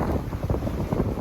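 Strong wind buffets the microphone aboard a sailboat off Corsica in a heavy swell, a loud continuous low rumble that surges and gusts throughout.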